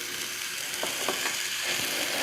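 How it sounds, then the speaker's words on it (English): Hamburger patties sizzling loudly in a hot skillet, a constant dense frying hiss with a few faint scraping clicks, close and without talk. "I'm about to put these hamburger in the skillet. I want you to listen. Hear that sizzle?"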